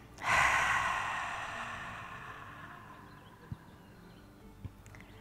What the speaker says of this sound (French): Prendre un grand souffle. Et on se relâche à l'expiration.